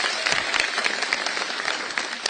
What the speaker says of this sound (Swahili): Makofi tena kwa Inoro TV